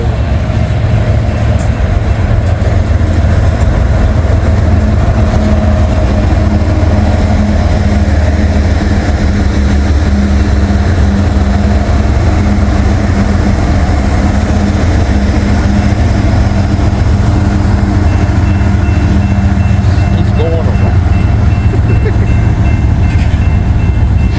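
Coal train with double DPU locomotives passing close by, a loud continuous rumble and rolling clatter of freight cars holding steady throughout, with a voice heard over it at times.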